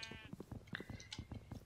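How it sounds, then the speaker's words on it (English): Sheep bleating in the Minecraft video game, a few short nasal bleats heard close and clear over a steady game background, with no talking. "Hello, little sheep, sheep,"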